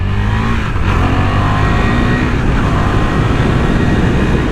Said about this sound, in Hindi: सबसे मेन मज़ा पता है इस बाइक का क्या है, वो है इसका क्विक शिफ्टर।